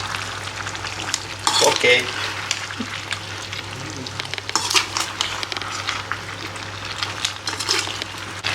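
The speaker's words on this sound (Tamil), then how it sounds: "இப்போ லைட்டாக அப்படியே கிளறி விட்டுக்கலாம்." Chicken frying in a pan while being stirred, with a steady sizzle and bursts of scraping and clattering from the spoon. A voice briefly says a single word.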